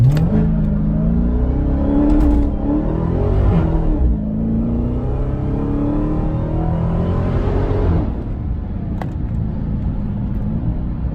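Dodge Charger SRT Hellcat in sport mode with traction control on, accelerating hard from 0 to 60 mph; a loud engine roar climbs steadily in pitch through the run, easing briefly around a gear change before rising again.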